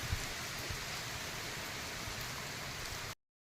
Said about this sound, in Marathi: हा बघा पाऊस किती आला. आता बोलता बोलता पाऊस आला.